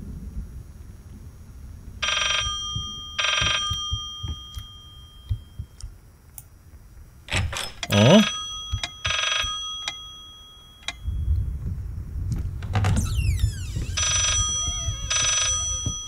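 Telephone ringing in the horror game Layers of Fear comes as repeated pairs of shrill ring bursts with gaps between them, mixed with clicks, creaks and a rising sweep of effects.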